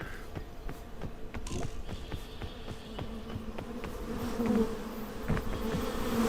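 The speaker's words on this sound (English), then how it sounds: "These bees are gonna kill me, aren't they?" Swarming bees in the video game PEAK buzz steadily and fairly close, a continuous droning hum with a series of sharp taps and footstep-like clicks scattered over it, growing slightly louder toward the end.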